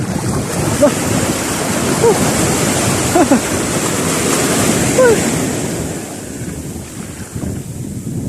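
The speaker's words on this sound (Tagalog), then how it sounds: "Oh, may makayang alon." Wind-driven sea waves slap and wash against a small fishing boat on murky open water, a loud continuous roar with strong wind buffeting the microphone and a few faint voices under it.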